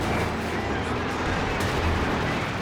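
Rocket artillery barrages and explosions from the Werfer in Company of Heroes 2, a 4v4 match, forming a dense continuous rumble of blasts and gunfire with a sharp burst near the middle, with a voice talking over it.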